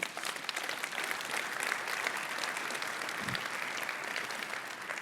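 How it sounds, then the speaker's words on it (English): Keynote audience at a large tech conference claps steadily, a dense, even round of applause that stays moderately loud throughout, with no voices over it. "let's give them a round of applause again"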